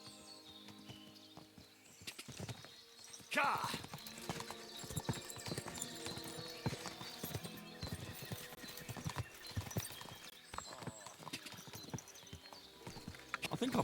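Steady horse hooves clip-clop under a rider in Kingdom Come: Deliverance 2, a continuous walking rhythm of close, moderately loud hoof strikes with a brief whinny early on and faint game music beneath.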